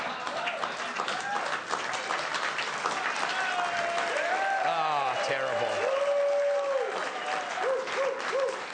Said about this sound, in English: I'll just wait till the wild applause dies down